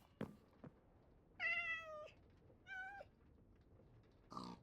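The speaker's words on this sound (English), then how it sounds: "Yes, kitty, I hear you." A cat meows twice in clear, drawn-out calls, close by but fairly soft, with a few small knocks before and a brief final meow at the end in an otherwise quiet room.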